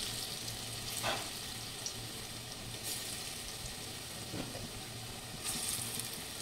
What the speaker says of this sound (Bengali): এইটুকু দিলাম আমি, এখন দিয়ে ভেজে নিচ্ছি